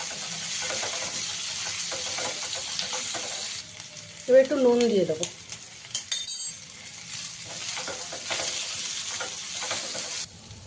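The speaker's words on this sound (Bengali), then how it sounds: "নারকেল কোড়া দিয়ে এটাকে আবার একটু ভাজবো" Taro and shrimp fry in a pan with grated coconut, giving a continuous sizzle with scraping, clinking stirs of a utensil; a voice speaks briefly over the frying midway.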